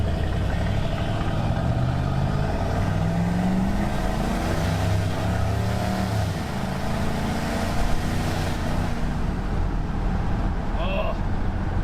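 A bone-stock farm truck with an added turbo accelerates from 0 to 60, its engine droning loud and continuous with rising pitch sweeps, while people talk over it inside the cab.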